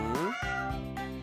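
Kittens meowing in a few high, wavering cries, close and clear, one call sliding into the next with no talking over them.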